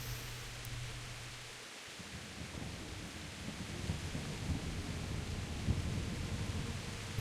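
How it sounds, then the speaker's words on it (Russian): Steady rain with low rumbling thunder in the medieval video game Kingdom Come: Deliverance, a constant wet hiss over deep rolling rumble that swells slightly toward the end, heard alone without talk. "Надеюсь, дождь может кончиться."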